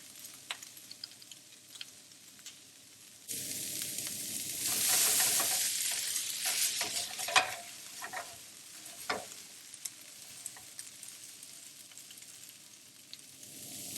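A soft background hum gives way to a sudden sizzle as green beans and carrots hit a hot pan, frying steadily with occasional clicks and scrapes of stirring.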